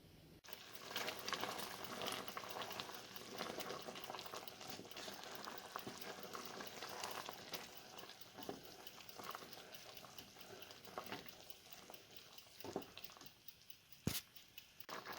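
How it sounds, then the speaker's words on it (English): A rhubarb and sugar jam mixture boiling in a pot, giving a steady low bubbling and simmering hiss throughout with occasional soft pops, one brief sharper tap near the end. "As it boils, the rhubarb is breaking down, as you can see"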